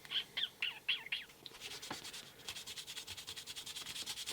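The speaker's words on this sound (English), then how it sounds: "So I'm going to do a little bit of light sanding on these." A few bird chirps, then soft rhythmic rubbing strokes of hand sanding a vintage police car with a 1500-grit 3M Trizact abrasive sponge repeat steadily at close range.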